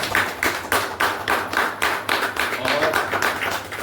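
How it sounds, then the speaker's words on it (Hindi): At a business gathering, an audience claps together in a strong, regular rhythm, roughly a dozen unison beats in quick succession, with faint voices beneath. "तो चलो एक जोरदार ताली बजाते हैं।"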